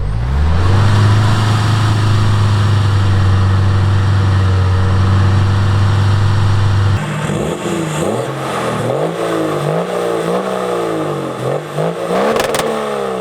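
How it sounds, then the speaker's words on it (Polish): A V8 off-road engine idles with a deep, loud burble, then revs up and down in repeated surges, close by. "Jak brzmią ramy z silnikiem V8 pod maską, pięknie bulgoczą, ale jest głośno."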